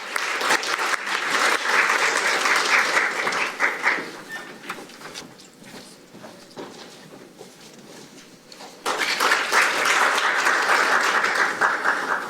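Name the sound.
applause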